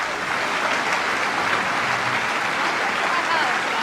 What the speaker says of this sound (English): So Marina Worre, give her a round of applause, everybody.